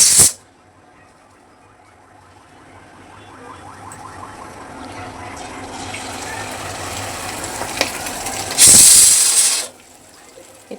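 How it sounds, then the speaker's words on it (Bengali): Egg and Malabar spinach omelette with onion and chili frying in a pan: a steady sizzling hiss that swells gradually over several seconds, with a brief louder hissing burst near the end. "আমি পুঁই শাক দিয়ে ডিম অমলেট করছি"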